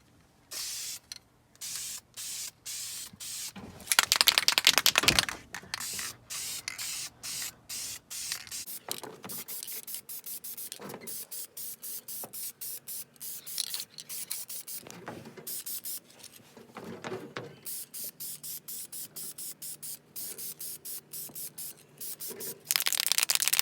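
A spray can paints a pair of car exhaust headers in repeated short hissing bursts with one longer, louder spray, close by, broken by brief pauses and a little handling noise.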